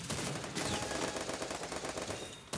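Sustained rapid automatic fire from the XN8 gun in the shooting video game Free Fire, a dense continuous burst of loud shots lasting a couple of seconds with no talk.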